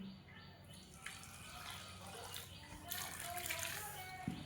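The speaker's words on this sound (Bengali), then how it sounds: "এবার অল্প অল্প আমি গরম জল দেবো" Warm water is poured little by little into pitha dough, giving faint trickles and soft splashes against a quiet background, with voices now and then.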